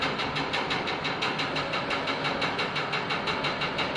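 An old HMT 5911 / Massey 35 tractor engine, a pre-1990 model being modified, runs at a steady idle with a fast, even chugging pulse, loud and close, with no voices over it.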